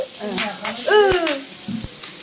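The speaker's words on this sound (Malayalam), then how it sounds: "എൻ്റെ കയ്യിലോട്ട് എണ്ണ തെറിച്ച് വീഴുന്നുണ്ട്" Chickpea dish frying in hot oil with dried red chili, ginger and green chili in a pan, a steady crackling sizzle running throughout with a brief voice over it.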